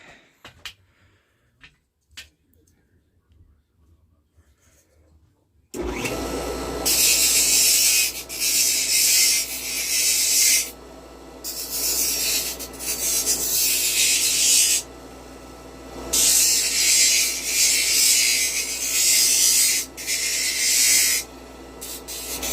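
Wood rib being rounded on a Miracle Wheel sander for a plans-built ultimate-control model aircraft, a quiet start then a loud continuous abrasive whir that rises and dips in repeated passes of a few seconds each.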